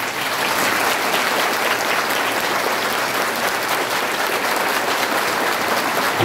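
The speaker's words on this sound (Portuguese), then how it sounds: "acolher a imagem de Nossa Senhora Aparecida com uma calorosa salva de palmas" A congregation at a solemn Catholic mass claps warmly to welcome the image of Our Lady Aparecida, a dense, even wash of many hands applauding steadily from start to finish with no talk.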